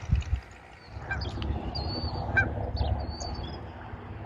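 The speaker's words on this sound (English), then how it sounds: "There's geese out here swimming in the lakes." Geese honk on an early-spring farm with lakes, a few short calls rising over a steady low rumble of wind or water, moderately near and without any speech.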